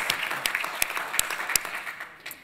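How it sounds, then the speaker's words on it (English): Audience applause at an indie awards summit session, a short burst of mixed clapping with a few sharp individual claps standing out, moderately loud and fading toward the end. "Round of applause, please."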